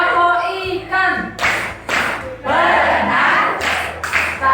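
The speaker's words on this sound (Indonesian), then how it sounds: "Yang kedua adalah tepuk ikan." A group of children at a Quran school performing a rhythmic hand-clapping routine, with several sharp bursts of claps between stretches of sung or chanted voices.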